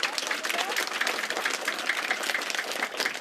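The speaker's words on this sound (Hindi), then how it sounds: "एक जोरदार ताली तो उसके लिए बनती है ना" A group of children claps together after a story, a brisk burst of applause that is moderately loud and fairly even throughout.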